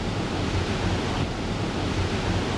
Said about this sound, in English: the swell comes right out of the deep water and hits this beach with a lot of force